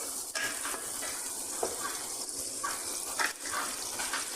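Tomato cooking in a pan during lamb and black lentil preparation makes a steady watery sizzle and bubbling hiss, with a few soft stirring clinks, moderately loud and continuous, without speech.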